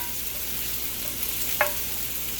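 Bacon sizzling in a pan for light crisping, a steady, fairly quiet frying hiss throughout with one brief sharp pop or clink near the end, no voices.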